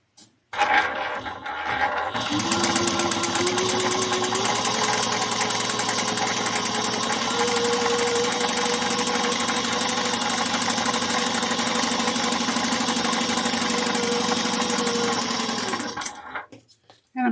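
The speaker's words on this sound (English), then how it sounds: "we're going to sew 1/4 of an inch down both sides" A sewing machine stitches a seam a quarter inch down the sides of a handbag, running as a steady, close mechanical whir for about fifteen seconds before stopping.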